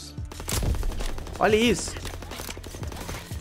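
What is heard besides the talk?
gunshots from a video game shooter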